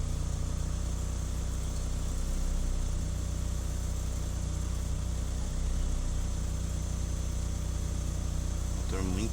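A rebuilt 1993 Chevrolet Kadett 1.8 SLE engine idles with a smooth, steady low hum. It runs evenly and continuously for the whole stretch, with a faint chirr like insects in the background.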